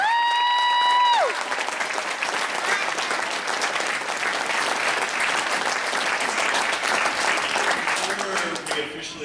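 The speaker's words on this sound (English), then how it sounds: "a round of applause for our teachers and our graduates" Applause from a crowd at a 2016 graduation ceremony, sustained clapping that swells in after a speaker's call and continues steadily, loud and dense, with a voice briefly audible at the start.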